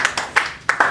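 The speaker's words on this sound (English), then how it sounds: "Give yourselves a round of applause," A handful of students clap sparsely in a classroom, five or six distinct close claps in an uneven rhythm rather than a full round of applause.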